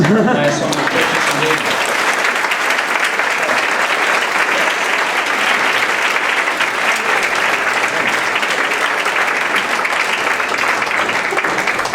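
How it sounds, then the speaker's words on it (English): An audience at a spiritual gathering breaks into dense, loud, sustained applause to welcome speakers, a continuous wash of clapping from many hands throughout. "cue for rapturous applause"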